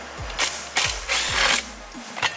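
A ratchet cranks out a car dashboard bolt in a few quick, loud strokes, each one a sharp clicking burst close by, with no voices.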